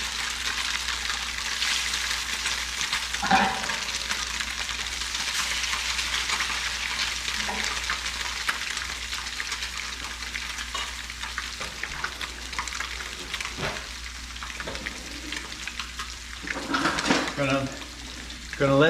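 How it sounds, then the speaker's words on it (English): Porgy fillets sizzle steadily in a frying pan outdoors on a windy day, a constant bright hiss with occasional pops and utensil clinks, while a person talks intermittently over it. "You can hear that sizzling."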